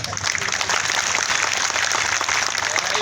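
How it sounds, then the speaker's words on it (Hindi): Applause from a crowd at an outdoor political rally, a continuous, fairly loud patter of many hands clapping at an even level for the whole stretch. "तालियां थोड़ी कम बज रही।"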